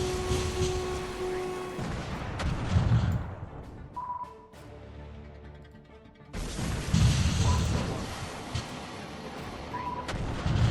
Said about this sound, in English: one of our long-range anti-ship missiles, which can all be used against land targets, hit one of the Iranian surface-to-surface missile batteries